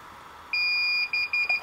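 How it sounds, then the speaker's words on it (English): A Pavo Pico receiver gives a clear, close electronic beep tone lasting about half a second, then a series of shorter beeps in a broken pattern. No one speaks. "I heard the beep"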